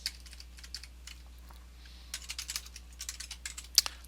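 Code is typed on a computer keyboard in quick, light taps, close and fairly quiet, sparse at first and then a denser run of keystrokes over a low steady hum.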